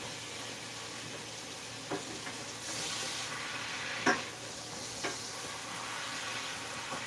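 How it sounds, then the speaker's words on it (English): Two spoons of garlic simmering in a pot on a kitchen stove, a soft steady bubbling sizzle with a few faint stirring clinks, no voices. "So right now it's simmering."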